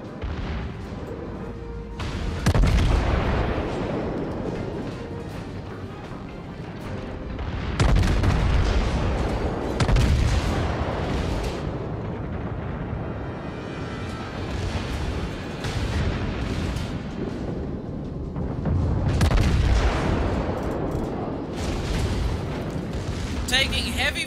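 Naval gunfire and shell explosions from the World of Warships naval combat game, with heavy booming salvos rolling in repeatedly every few seconds, loud and dense, while a player talks throughout.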